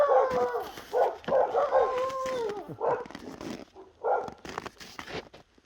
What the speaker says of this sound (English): The dogs are letting me know somebody's walking down the street.